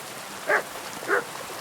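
A dog barks twice in Kingdom Come: Deliverance II, two short, moderately loud woofs about half a second apart over a faint, steady ambient hiss.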